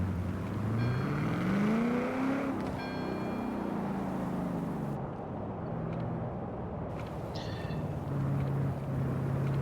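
Nissan Fairlady Z 350Z with a drag tune driving in Forza Horizon 4, engine revving up and shifting through gears with rising and falling pitch, fairly distant and moderate in level over a snowy setting.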